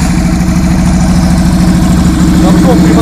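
A Yamaha Virago motorcycle with straight-through exhaust pipes idles close by, its deep, steady, throbbing rumble running evenly and loud throughout.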